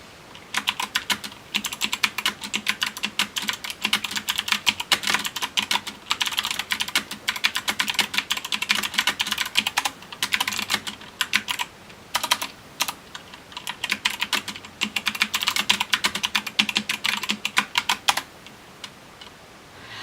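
Someone types a chat message on a computer keyboard in quick, steady bursts of clicking keys, close and clear, with brief pauses between runs and no talking.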